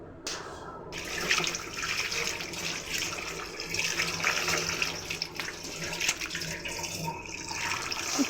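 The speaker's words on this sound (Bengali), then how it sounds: "এখন শাকগুলো আমি ধুয়ে নিচ্ছি" Leafy greens from a home garden washed under a running tap, a continuous close splash of water into a sink with some shifting of the leaves, steady from start to end.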